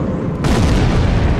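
Bomb explosion in the video game Sniper Elite, a loud, sustained close boom rumbling deep and wide for over a second with no speech.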